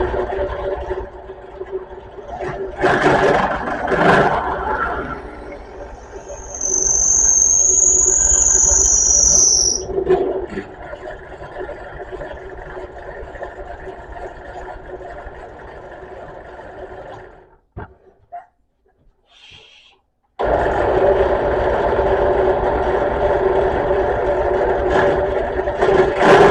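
A power drill fitted with a 3/8 inch bit and depth stop boring into wood for a bass guitar wall hanger: a sustained loud motor whine with a high squeal partway, a brief stop, then it resumes.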